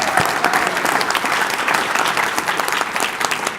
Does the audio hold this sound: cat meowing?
no